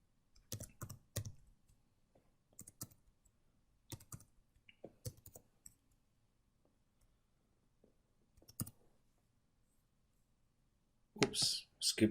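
Keys clack in short bursts and scattered single presses as someone types into a Google spreadsheet on a computer keyboard, close and fairly quiet, with brief pauses between entries and a louder noisy rustle near the end.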